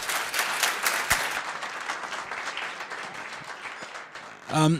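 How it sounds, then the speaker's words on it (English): A conference audience at Agile Africa 2016 applauds after a talk, a full burst of clapping that gradually thins and fades, with a voice coming in briefly at the very end. "Please, let's give him a round of applause."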